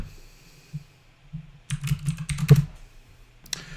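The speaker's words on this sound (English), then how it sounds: "Mechanical keyboard." Keys clack on a mechanical keyboard in a quick, uneven run of crisp clicks, growing denser and louder midway, over a steady low hum from the room or computer.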